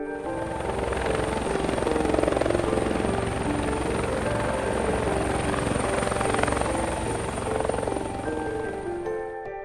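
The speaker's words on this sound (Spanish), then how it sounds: "Era un helicóptero que estaba sobrevolando el área." A helicopter flies overhead, a loud, close, steady rotor chop with engine whine that holds throughout and eases slightly at the end.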